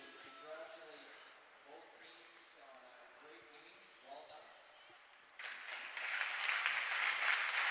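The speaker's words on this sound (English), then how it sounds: "As this very large crowd here at Ridley College applauds both clubs for the efforts they put forward this weekend" A very large crowd at Ridley College applauds both clubs after a women's hockey game; the clapping swells suddenly and fills the rink loudly for the final couple of seconds, following a stretch of talk and low arena noise.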